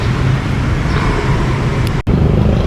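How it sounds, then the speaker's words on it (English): Loud, continuous road traffic rumbles nearby on a street in Vietnam, a dense wash of engine and tire noise with a brief dropout near the end. "I'm just hoping that the noise settles down over here because it's quite loud with the traffic"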